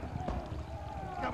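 Horses galloping in the western video game Gun, with rhythmic hoofbeats thudding under a man's speech in a short burst.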